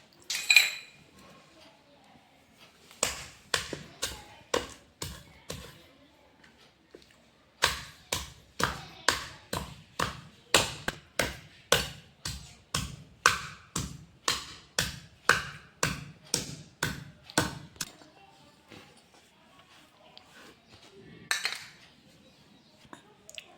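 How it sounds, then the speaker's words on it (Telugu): Washed green chilies are pounded in a mortar with a long run of steady, evenly spaced thuds, close and clear, with short pauses between sets and no talking. "ఈ పచ్చిమిర్చిని కూడా కడిగి బాగా దంచుకోవాలి ఫ్రెండ్స్."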